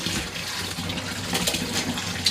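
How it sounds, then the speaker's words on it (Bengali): Muddy pumpkin greens are rubbed and rinsed by hand in water, with a close, continuous splashing and gushing and brief louder swishes. "ভালো করে কচলে কচলে কুমড়ো শাকগুলো ধুয়ে নিলাম"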